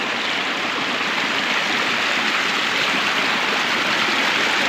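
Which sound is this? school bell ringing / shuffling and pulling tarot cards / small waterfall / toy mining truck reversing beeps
small waterfall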